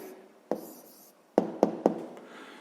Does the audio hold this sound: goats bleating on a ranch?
no